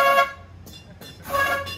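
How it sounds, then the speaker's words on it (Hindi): A loud, close train horn fitted on a car blares twice in a harmonic tone, separated by a short pause. "हाँ जी जा साहब हॉर्न चेक करो, ये जा ट्रेन हॉर्न लगा के आए"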